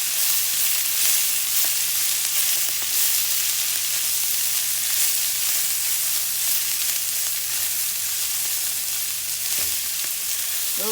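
Shredded cabbage and onions frying in a pan for an easy weeknight dinner, giving a steady, close sizzle with faint crackles and an occasional stir, no voices.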